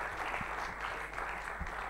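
Audience applauding at an event, a brief dense patter of clapping heard at moderate distance, steady and continuous.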